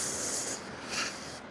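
Brake cleaner sprays from a can onto a wet Briggs & Stratton Intek engine part, giving two short, close hissing bursts.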